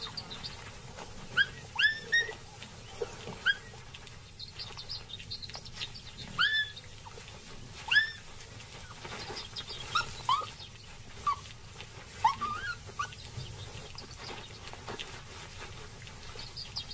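Jackal pups whimper inside a den with thin, high squeaks and whines that come in scattered short bursts over a low background hum, faint and close.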